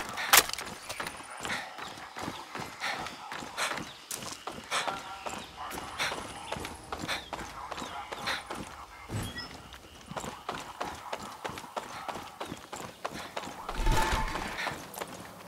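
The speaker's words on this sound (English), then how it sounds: "It's Anton's fucking zebra! That's a horse in some paint!" Horse hooves clip-clop in the video game Far Cry 6, a steady run of sharp hoof strikes at walking pace with a faint whinny and game ambience under them.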